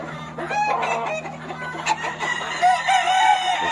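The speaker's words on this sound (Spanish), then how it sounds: "Gallos seleccionados." Roosters crowing and hens clucking at a Spanish gamecock breeding farm, several birds calling over one another close by, with a steady low hum running underneath.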